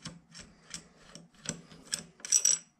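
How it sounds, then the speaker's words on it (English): A motorcycle clutch flower nut being unscrewed from the clutch basket gives a close, steady series of dry rasping clicks about every half second, with a brighter scrape at the end and no talking. "then you can easily turn the flower nut off"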